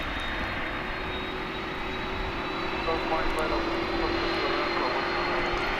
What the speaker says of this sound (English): It's an Embraer 175 coming in from Jackson,